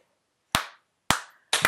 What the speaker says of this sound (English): the first slow golf clap of the evening